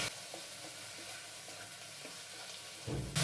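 Pointed gourd and potato pieces fry and sizzle steadily in a pan with oil, with soft stirring scrapes throughout and a brief louder hiss near the end.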